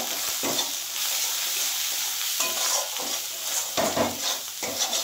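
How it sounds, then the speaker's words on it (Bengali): Fish curry masala with salt and turmeric sautés in a pan for a tangy rupchanda fish dish, giving a loud continuous sizzle broken by repeated scraping stirs and light utensil knocks, with no talk. "এবার আমি এটা আবার ভালো করে কষিয়ে নেব।"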